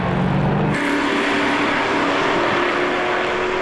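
Retro race cars at a motorsport event, loud close engine roar as cars pass, with a sharp change in pitch early on and sustained racing engine noise throughout.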